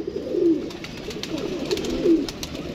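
Soft, low pigeon coos repeat a few times at moderate distance over a steady background hum, with no voices.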